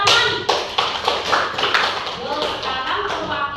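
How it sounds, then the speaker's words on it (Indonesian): Children in a classroom clap their hands together in a short burst of sharp, uneven claps close by, while a voice talks over them. "Berarti sudah pinter anak-anak hebat, tepuk tangan."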